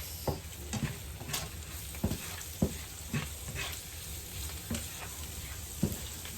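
Aromatics fry quietly in a pan while being stirred constantly, a soft continuous sizzle punctuated by repeated scraping and clinking strokes of a utensil every half second or so. No voices.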